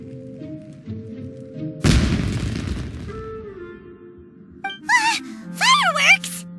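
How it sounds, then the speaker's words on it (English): A single loud booming fireworks blast in Genshin Impact bursts out early and decays into rumble, with game characters speaking before and after it. "Huh? Was that an explosion? It sounded like fireworks."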